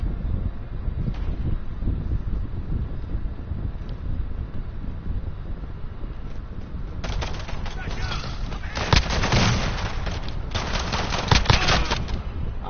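Machine gun fire in Call of Duty Modern Warfare multiplayer, with sustained bursts of rapid shots that grow louder and denser toward the end over constant background noise.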